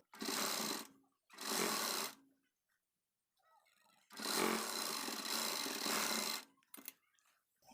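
Sewing machine stitching a blouse, running in three loud bursts of a second or more each, with the longest run near the end, separated by short quiet gaps and a few faint handling noises.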